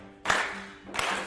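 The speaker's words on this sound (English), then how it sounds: "So I want everyone to start clapping." Two sharp hand claps from a group at a seminar, spaced about seven-tenths of a second apart, each bright and close with a short roomy tail, no voices.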